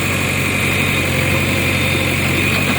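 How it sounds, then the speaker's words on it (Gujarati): A JCB excavator digging a pit runs with a loud, steady droning engine and a constant mechanical hum, close by and unbroken, with no voices over it. "જેસીબી અહીંયા ખાડો ખોદી રહી છે"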